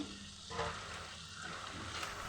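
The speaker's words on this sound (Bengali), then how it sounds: "আর এখন এ পর্যায়ে আমি চটকে রাখা মাছের ডিমগুলো দিয়ে দিচ্ছি" Mashed fish roe dropped into hot spiced oil for a sour fish roe curry, giving a loud burst of close sizzling and frying with stirring scrapes that continues throughout.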